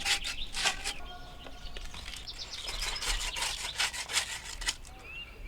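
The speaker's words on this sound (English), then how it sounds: "Even though it's new copper, I sand it down anyway." Sand cloth rubs briskly back and forth over new copper pipe fittings during installation of a Trane XR15 central air unit, a steady close scratchy scrubbing with faint birds chirping in the background.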